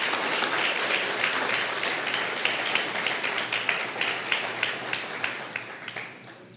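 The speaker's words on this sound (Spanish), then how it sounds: "Le puede dar un fuerte aplauso al Señor por su palabra." Church congregation applauding during a sermon, steady dense clapping that thins into scattered individual claps toward the end.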